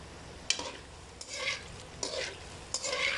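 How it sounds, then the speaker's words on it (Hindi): Potato finger chips dropped one by one into hot oil, each splash followed by a burst of bubbling sizzle, repeated four times in an uneven rhythm, close and clear with no talk. "हम इनको बिल्कुल हमने एक एक पकड़ के डिप करते जाना और डालते जाना"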